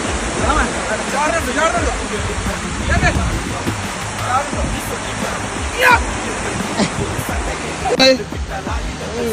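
A loud, continuous rush of a waterfall fills the scene, with people talking faintly underneath the roar.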